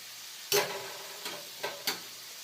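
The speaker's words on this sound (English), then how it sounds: "then I'll stir the onions with the carrots" Onions and carrots are stirred in a frying pan, with four quick utensil scrapes and knocks over a soft, steady sizzle, close by and with no voices.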